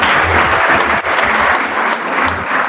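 A crowd at a Bank Indonesia event in Cirebon applauds loudly and steadily, a dense wash of clapping that holds for a few seconds without pause.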